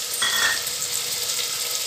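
Meat (gosht) dropped into hot fried onion, ginger and garlic for a Hyderabadi turai gosht salan, giving a brief burst of loud sizzling that settles into a steady, close frying hiss.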